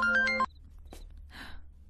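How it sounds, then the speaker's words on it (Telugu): A phone ringtone plays a short melodic burst of electronic tones for about half a second and stops, followed by faint rustling sounds. "ఫోన్ వచ్చింది బేబీ, ఫోన్."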